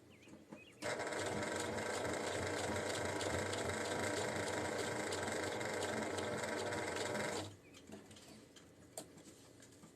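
A sewing machine stitches linings into granny square crochet totes, running as one steady, fairly close whir from just under a second in to about seven and a half seconds, with quiet pauses before and after.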